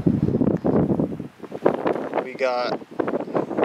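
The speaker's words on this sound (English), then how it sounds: "Super windy. It might be hard to hear me on the camera" Strong gusts of wind roar across the microphone outdoors, a steady broadband rush that swells and dips under someone talking close by, with a short tonal sound partway through.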